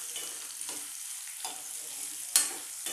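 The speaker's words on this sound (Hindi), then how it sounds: "तो प्याज को भी सेक लेंगे।" Thinly sliced medium onions frying in a pan for a cauliflower and potato curry, a steady soft sizzle broken by a few stirring scrapes and a sharper clatter near the end.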